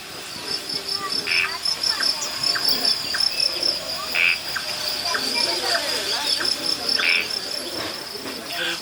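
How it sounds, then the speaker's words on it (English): A dense chorus of crickets chirps steadily at night in a tropical forest in Singapore, a continuous shrill trilling with a few louder pulses rising now and then. "All set against a chorus of crickets."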